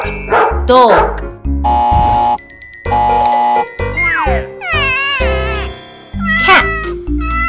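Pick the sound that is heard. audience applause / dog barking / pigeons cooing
dog barking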